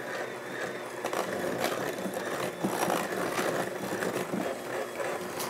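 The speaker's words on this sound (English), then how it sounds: "we're gonna cream the butter and sugar together" An electric hand mixer beats butter and sugar together in a bowl with a steady motor whir and rhythmic rattling of the beaters, running close and loud without a break.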